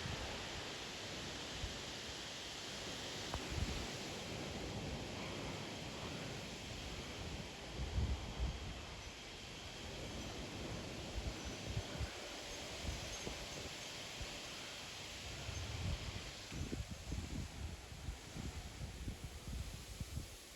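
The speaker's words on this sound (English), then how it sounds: "It's raining quite a bit." An evening severe thunderstorm brings light rain and strong wind gusts of 50 to 60 mph: a steady broadband hiss of rain and rushing wind, with occasional gusty surges battering the microphone and no talking.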